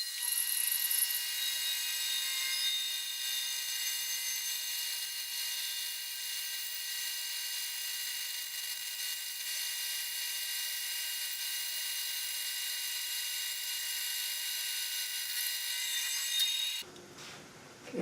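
A band saw slices walnut into thin book-matched guitar side pieces, a loud, steady high rasping whine of the blade in the wood that holds for about seventeen seconds and then cuts off abruptly.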